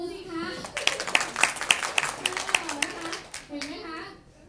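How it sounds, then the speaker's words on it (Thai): A few people clapping by hand in a small group, with light uneven claps under a voice speaking, after a health product testimonial. "ปรบมือสิคะ"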